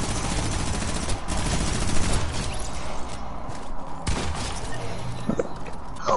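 A legendary pump shotgun in a video game fires several heavy blasts spaced a second or two apart over a dense, busy game background.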